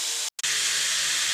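Cauliflower and potato pieces fry in hot oil with a loud, steady, close sizzling hiss, briefly cut by a short gap before the crackling resumes.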